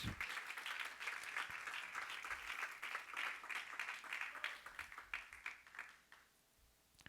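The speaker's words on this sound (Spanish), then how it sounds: "Dale palmas." Congregation applauding in a church during a Spanish-language sermon on the Passion of Christ, steady dense clapping for several seconds that thins and fades near the end.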